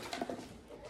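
Pigeons, including young pigeon chicks, coo faintly in a short burst of a few soft calls against a quiet background hiss.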